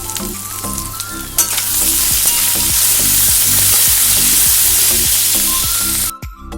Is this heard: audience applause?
no